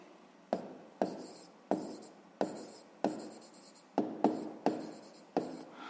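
Pen strokes on paper while working a fifth-grade math exercise: a quick series of about ten short scratchy marks, each with a sharp onset, close and clear with no talk.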